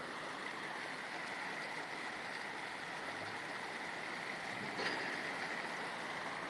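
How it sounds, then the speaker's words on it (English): Water released through a canal lock gushes continuously with a broad, even roar, like a heavy flow pouring through sluices, steady throughout with no voices. "Let's let the water out again"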